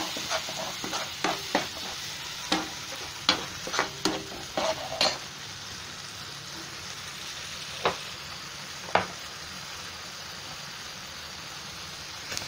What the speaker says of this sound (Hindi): अब इसमें हाई फ्लेम कर दो भून लेंगे मसाला